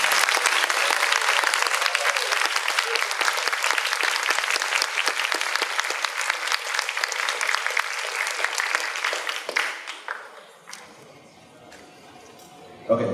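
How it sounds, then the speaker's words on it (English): An audience at a Model UN opening ceremony gives a keynote speaker a dense, loud round of clapping that runs steadily for about ten seconds, then thins out quickly into a few scattered claps and quiet room noise. "Please give him a huge round of applause."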